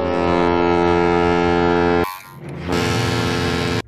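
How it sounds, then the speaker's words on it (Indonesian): Cartoon ship horn sound effect from the Hey Arnold Nickelodeon series: a loud, deep, harmonic blast held for two seconds, a brief dip, then a second long blast that cuts off abruptly. "suara klakson kapal yang muncul pada kartun Hey Arnold sangatlah mirip dengan bunyi suara alarm tidur SpongeBob"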